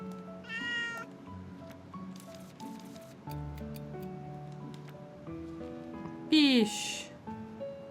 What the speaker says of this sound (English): Alright, come here, kitty.